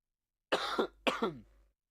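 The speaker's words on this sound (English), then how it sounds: "By the way, I do have a cough, so if I cough," Two sharp coughs in quick succession, close and fairly loud, with silence before and after.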